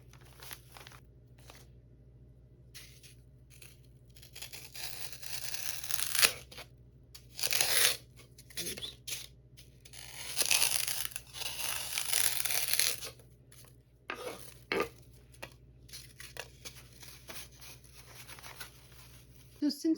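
Wreath pieces for a Dead by Daylight craft are pressed down and cut, giving scattered crunches and tearing rustles up close, with quiet stretches between bursts and a steady low hum underneath.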